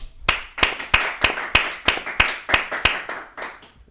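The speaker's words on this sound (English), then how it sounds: "Everybody clap it up for Mike Woo, y'all." A small audience claps for Mike Woo in a shop-talk podcast setting: about a dozen sharp, evenly spaced claps in a quick steady rhythm, close and fairly loud, with no voices over them.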